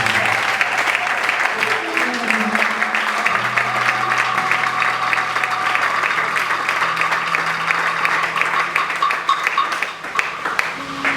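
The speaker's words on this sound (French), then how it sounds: "Est-ce qu'on peut acclamer la vie?" An audience at a church plenary session in Kinshasa applauds steadily and loudly throughout, dense clapping mixed with cheering crowd voices.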